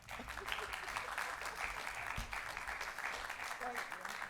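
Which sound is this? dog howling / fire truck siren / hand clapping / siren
hand clapping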